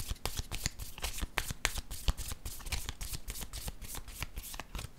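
Tarot cards are shuffled by hand close up, a rapid run of crisp riffling slaps and flicks repeating in quick rhythmic bursts for several seconds without speech.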